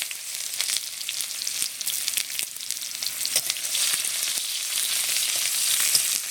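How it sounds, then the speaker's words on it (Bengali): Chopped onion hits hot oil seasoned with two dried chillies and whole cumin seeds, giving a steady, bright sizzle with faint crackles and occasional stirring clicks, no voices. "আর দিয়ে দিচ্ছি পেঁয়াজ কুচি"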